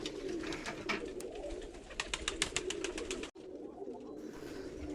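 Giribaj pigeons from Rajshahi coo in a close group, soft repeated throaty calls overlapping with rustling and wing flutters, one brief cut near the end.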